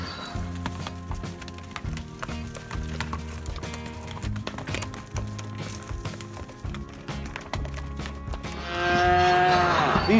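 Cattle bound for a cowboys rodeo event lowing among the livestock, with steady hoof clatter and wooden knocks throughout and a clear moo near the end, fairly close, with no talk.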